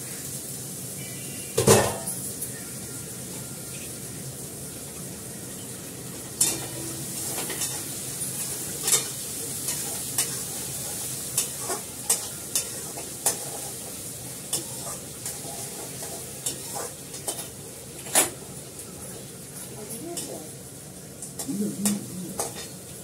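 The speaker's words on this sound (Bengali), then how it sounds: "রসুন বাটা, পেঁয়াজ একটু একসঙ্গে দিয়ে দিলাম। ভালো করে কষাবো।" Garlic, onion and ginger paste sizzles in a pan while a spoon stirs and scrapes it, with repeated sharp clinks of metal against the pot over a soft, steady frying hiss, quiet and close.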